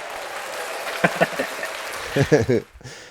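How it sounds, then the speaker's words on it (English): Applause from an audience comes through alongside people talking, brief and fairly quiet, ending abruptly. "Let's give him a round of applause."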